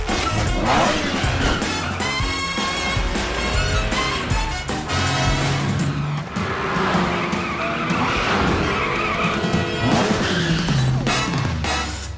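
An animated cat-themed car racing off and skidding, with loud tire squeals, revving engine and dramatic cartoon music over a continuous, energetic chase.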